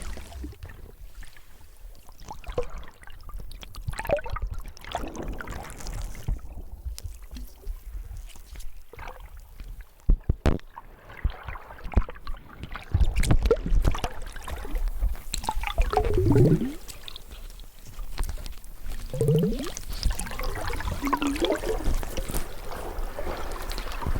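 Underwater ambience from a hydrophone while snorkeling near a sea lion: muffled watery sloshing and bubbling with low thuds, plus a few swooping gurgles that may be breathing through the snorkel, fairly close and uneven throughout.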